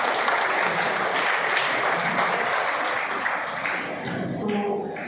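An audience in a hall claps steadily for a good answer, a dense even round of applause that gradually thins toward the end as a voice begins to come through.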